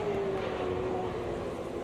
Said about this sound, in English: That was engine braking right there